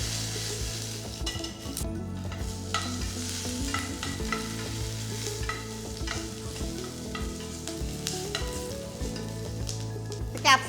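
Onion and capsicum chunks sizzle and crackle steadily over a high flame while being stirred, with scraping clicks of the utensil against the pan throughout.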